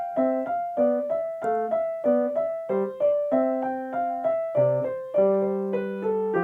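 Solo piano plays Menuet en Rondeau with every note struck at the same even weight, a steady stream of close, clear notes and chords over several seconds, no talk.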